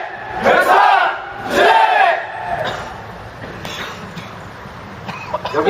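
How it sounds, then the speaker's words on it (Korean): A crowd at a labor union rally gives loud chanted cries in two big surges, followed by scattered coughing and throat clearing around the gathering. "여기저기서 기침 소리 들립니다."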